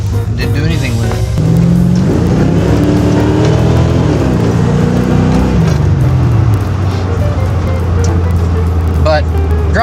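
A Chevrolet C4 Corvette in daily use hums along with a steady low engine drone and road noise from inside the car, while a person talks over it throughout.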